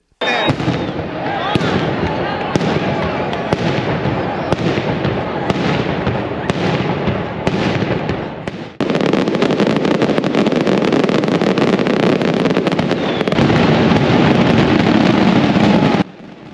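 A relentless barrage of festival firecrackers at the Magdalena fiesta crackles and pops in rapid, dense bursts, loud and continuous, with a brief dip before the racket intensifies again.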